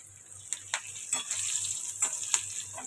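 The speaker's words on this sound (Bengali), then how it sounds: "দেখো ভাজা হয়ে গেছে, এখানেই দিয়ে দেবো কালো জিরে ফোড়ন" Nigella seeds and green chilies fry in oil in a home kitchen, a soft steady sizzle with a few scattered clicks and scrapes of stirring, fairly quiet.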